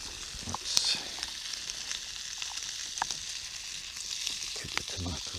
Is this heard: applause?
no